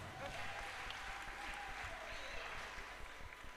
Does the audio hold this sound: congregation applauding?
yes